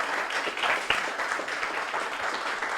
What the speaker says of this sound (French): je crois qu'on peut s'applaudir